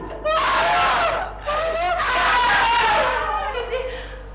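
Loud, high, wavering screams from a Hindi TV sitcom scene, two long cries in quick succession, with a brief dip between them.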